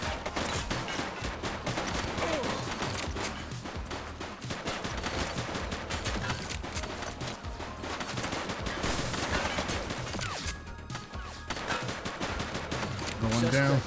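Sustained gunfire in The Precinct, a police action game, crackles as dense, overlapping bursts of shots through the whole stretch. Voices speak beneath the loud firefight.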